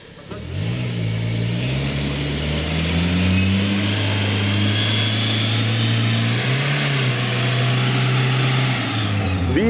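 A car engine, from an outing with an L200, a Jeep and a Rural, revs up hard and close. Its pitch climbs, holds at a loud high drone, dips briefly and rises again, and a voice is faintly heard beneath it.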